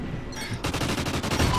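Rapid automatic gunfire rattles in a multiplayer shooter match, a dense, loud burst of evenly spaced shots filling the moment with no talking.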